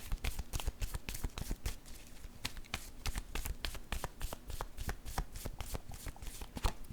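A deck of tarot cards shuffled close by hand, an even, rapid train of crisp card snaps that runs unbroken throughout, with no talking.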